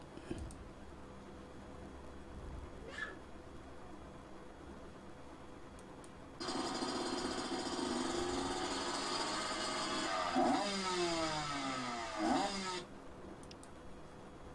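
A motorcycle engine fades in and idles with a steady rumbling drone, then revs up twice in rising sweeps before cutting off, heard fairly close over a quiet background.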